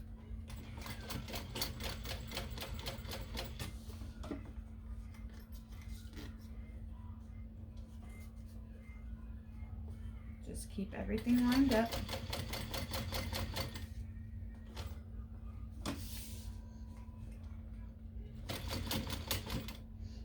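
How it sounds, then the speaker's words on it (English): A sewing machine back stitches over a zipper on a small backpack, running in rapid mechanical bursts with pauses between, and a person speaks briefly over the stitching. "I like to back stitch right over that zipper a little bit"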